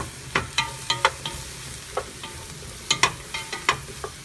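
Butter sizzles in olive oil in a pan with a steady frying hiss, broken by irregular sharper crackles and scraping stirs throughout, close and fairly loud with no talking.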